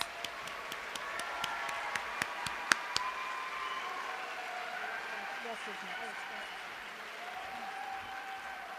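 Audience at a 2019 nursing school commencement gives a short, sparse round of applause with distinct claps for about three seconds, then a voice speaks over soft room noise.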